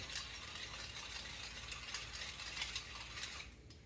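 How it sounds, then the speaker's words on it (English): A pepper mill grinds pepper for a chicken stir fry with a close, quick ratcheting crackle that runs steadily for a few seconds, then stops abruptly near the end. "we're going to add some ground pepper"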